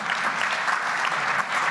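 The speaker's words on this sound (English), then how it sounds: "The applause should be for Tolstoy and Dostoevsky." Sustained applause from a lecture audience at an event on economics and Russian literature, dense steady clapping throughout, fairly close and full.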